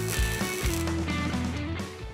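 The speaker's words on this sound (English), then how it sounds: "Each click of the strap adds more force to the chassis." A ratchet strap being cranked tight on a vehicle chassis in a fabrication shop, a series of sharp mechanical clicks in quick succession, close and fairly loud.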